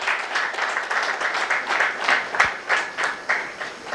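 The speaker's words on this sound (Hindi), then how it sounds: "तो दोनों के लिए, माँ बेटे के लिए ताली बजाओगे" An audience at a Brahma Kumaris gathering in Bahadurgarh breaks into steady applause for a mother and son, a dense, moderately loud patter of many hands clapping continuously without speech.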